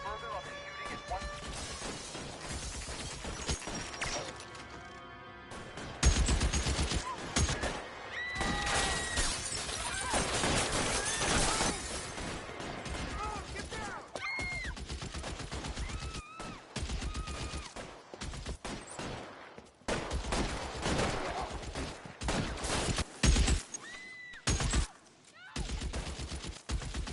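Gunfire erupts in a police video game, loud bursts and rapid volleys with crashing impacts set against music and radio chatter, with a brief lull before the shooting resumes and continues to the end.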